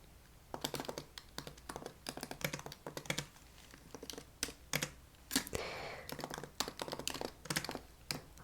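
Soft, close typing on a computer keyboard in a quiet room, irregular bursts of crisp key taps with brief pauses between, steady and gentle throughout.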